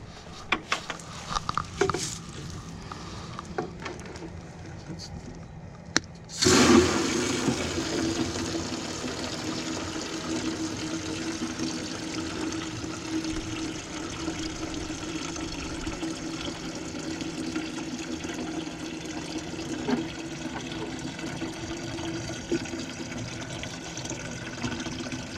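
Water pours into a watering can in a garden, beginning with a few faint knocks before a sudden steady rush of filling that continues loud and even to the end.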